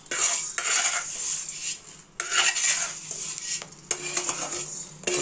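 Wheat grains dry-roasting in a pan while being stirred, with repeated scraping and rattling bursts of metal on grain and pan, close and fairly loud, separated by brief pauses.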